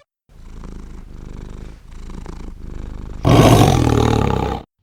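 A cat purrs in short rhythmic bursts, close and steady, then swells into a louder, harsher rumble near the end, with no voices around it.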